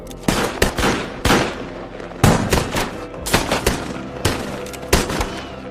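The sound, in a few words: exchange of gunfire in a western film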